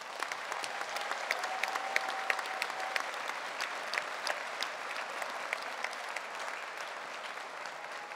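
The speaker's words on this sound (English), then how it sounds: "Please give them a round of applause to thank them for their generosity." An audience at a baccalaureate convocation applauds steadily to thank prize donors, a dense, even wash of many hands clapping in a large room, moderately distant and continuous.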